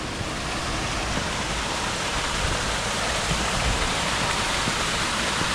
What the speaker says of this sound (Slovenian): Tam spodaj je že en slapiček, gremo pogledat.